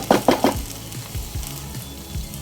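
Fish roe curry sizzling in oil, opening with three sharp scrapes of a spoon against the pan, followed by a softer, continuous sizzle with occasional light knocks of stirring, close and without talk.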